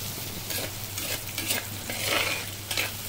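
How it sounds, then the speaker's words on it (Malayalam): Coconut pieces, shallots and green chillies fry in a pan, giving a steady crackling sizzle broken by scraping stirring strokes, close and fairly quiet with no talk. "ഇതിലെ കൊച്ചുള്ളിയും പച്ചമുളകും ഇപ്പം നമ്മൾ ഇട്ടിട്ടുണ്ട്"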